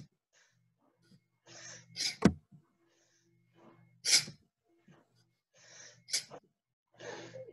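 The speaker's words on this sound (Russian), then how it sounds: "выдох, вдох, выдох, вдох, выдох, вдох, выдох, вдох" Forceful exhales in a deep breathing exercise, four strong puffs of breath spaced roughly two seconds apart, close and loud, with quieter inhales between them and no talking.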